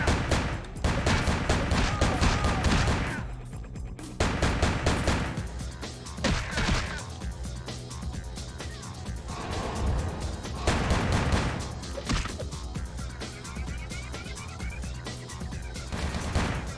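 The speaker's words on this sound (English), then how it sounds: "They keep shooting me through walls." Rapid gunfire in Vampire: The Masquerade - Bloodlines as enemies shoot through walls, with dense bursts of loud shots, brief pauses, then more barrages running throughout.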